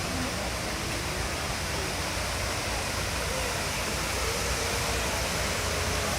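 The reverse waterfall at Epcot in Walt Disney World produces a steady, close wash of rushing water that holds constant and unbroken, with no voices over it.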